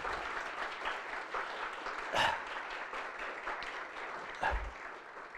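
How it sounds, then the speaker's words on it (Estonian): At the Tallinn University education conference Haridusmõte 2020, the audience gives the authors a sustained round of applause. The clapping is even and continuous, broken by a couple of brief louder bumps. "Ja teeme neile ühe aplausi."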